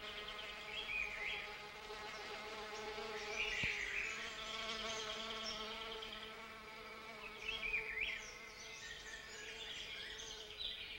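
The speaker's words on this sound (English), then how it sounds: "This is done exclusively by a species of beautiful iridescent orchid bee, the plant's one and only pollinator." Iridescent orchid bee buzzing in the forest, a steady droning hum that swells and recedes as it moves about, faint and set against insect and bird chatter in the background.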